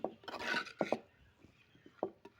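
A utensil scrapes and stirs cooked spinach with grated coconut in a pan, giving a few short rasping strokes that are close and fairly quiet.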